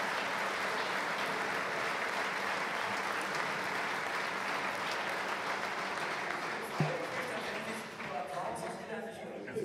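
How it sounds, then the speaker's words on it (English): A lecture audience applauds steadily for most of the stretch, a dense even wash of clapping that thins out near the end. "Here I am really happy about this applause."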